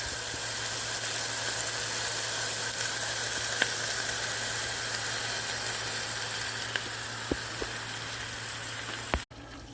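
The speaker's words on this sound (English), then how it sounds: "Must brown them in the skillet first." Meatballs browning in a hot skillet give a steady, loud sizzle that fills the whole stretch, with a few faint pops and a sharp crackle just before it cuts off; no one speaks.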